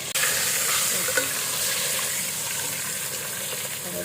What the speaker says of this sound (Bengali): মাথাটা একটু ভেজে নেই